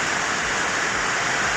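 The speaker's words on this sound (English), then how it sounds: "it's like raining too much and there's water All everywhere" Heavy rain pouring steadily with water running everywhere, a dense, even hiss of downpour close by with no voices.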